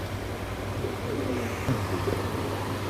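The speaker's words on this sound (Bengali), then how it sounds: "মাশাল্লাহ একেবারে নিউ অ্যাডাল একটা জোড়া নতুন কবুতর" A newly adult pair of pigeons in a cage gives soft, low cooing over a constant background hum, with a few slightly louder coos near the end.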